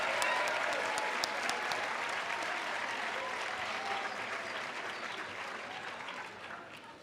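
Sustained applause from a film festival opening-night audience, broad dense clapping at a moderate distance that slowly fades toward the end, with a few scattered voices under it.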